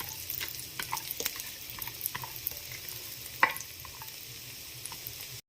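Cashews fry in ghee in a heavy pot with a soft, steady sizzle, punctuated by clinks and scrapes of a stirring spoon, heard close and alone without voices.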